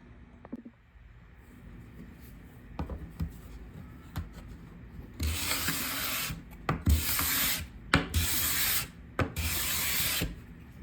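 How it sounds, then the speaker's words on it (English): A card scraper works across an eastern red cedar butcher block top, first with faint scattered scrapes, then with loud rasping strokes in bursts of about a second each, close up and with no talking. "I'm going to finish them with a card scraper"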